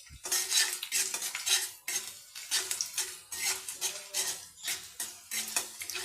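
A utensil scrapes and clinks rhythmically against a pan while garlic, chilli, white cumin and black cumin fry, with repeated stirring strokes over a soft sizzle, close up and without talk.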